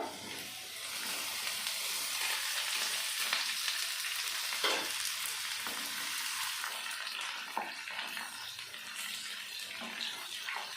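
Sliced ridge gourd lands in a pan of fried potatoes. It gives a steady, dense sizzle that carries on for the whole stretch, with faint scrapes and clinks of stirring coming and going.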